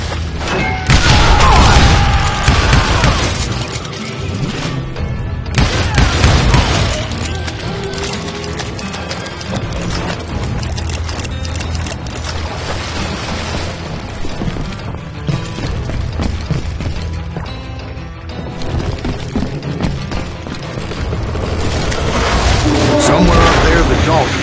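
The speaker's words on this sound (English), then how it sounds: "a fusillade of bullets come raining down from on high" A volley of gunfire rains down in Call of Juarez Gunslinger, with booms and mechanical clatter running steadily throughout while someone narrates over the action.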